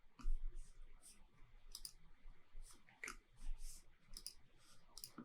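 Repeated sharp computer mouse clicks at close range while working in Google Tag Manager, coming in irregular bursts with quiet gaps between them.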